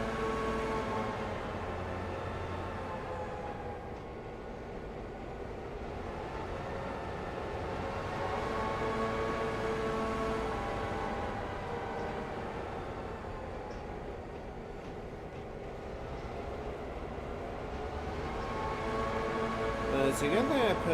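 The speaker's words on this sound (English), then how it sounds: "it's gonna sound like the locomotive's now redlining as we go up the branch line here." A video-game diesel locomotive engine near redline, pushing a train uphill on a branch line in Railroader, drones steadily and loudly, its layered tones slowly rising and falling in pitch without a break.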